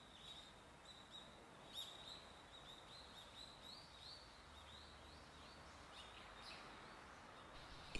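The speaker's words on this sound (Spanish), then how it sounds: "Vas a escuchar las golondrinas, los pajaritos de afuera y pues los chillidos de murciélagos." Swallows, small birds and bats inside a cenote near Tulum, faint high chirps and twitters scattered through a quiet, airy space, distant and echoing, with no talking.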